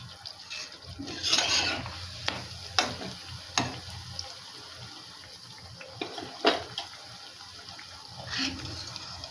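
Pitha dough balls sizzle and bubble in hot oil, a soft steady fry with occasional louder pops and stirring clinks, close by with no talk.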